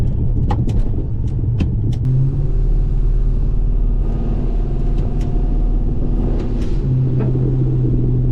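An HSV VP Senator drives along with a steady, low engine rumble, its tone shifting slightly as it runs, with a few faint clicks over the drone.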